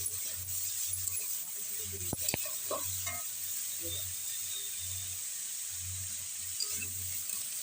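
Onion greens, tomato, peas and coriander frying in a pan give a quiet, steady sizzle, broken by a few sharp metallic clicks and scrapes from stirring, with soft voices murmuring low in the background.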